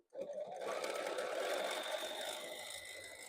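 A sewing machine runs in a steady, fast whirring stitch as quilt pieces are sewn at a quarter-inch seam, close and continuous for about three seconds.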